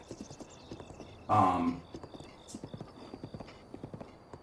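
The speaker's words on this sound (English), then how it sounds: "horses are pretty useful for getting around quickly." Horse hooves clip-clop steadily in a run of quiet, regular beats through the Zelda Breath of the Wild video game, with a brief loud burst of snorting or whinnying partway through.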